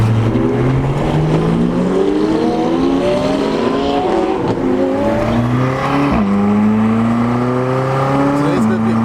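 A car cruising on back roads, its engine revving up through repeated gear changes and climbing again, loud and close from inside the vehicle, with no talking.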